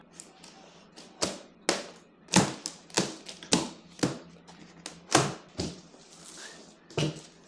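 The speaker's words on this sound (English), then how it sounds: "let's get this thing ripped open and let's check it out" A cardboard shipping package for a budget Alibaba dirt bike is torn open: a rapid series of sharp, loud ripping and snapping bursts, close by and irregularly spaced, with no talking.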